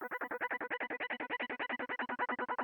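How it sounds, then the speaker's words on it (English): A high pulse synth chugs in a fast, even stream of short repeated stabs for under three seconds, quiet and alone with no other parts. "got some high pulse synths"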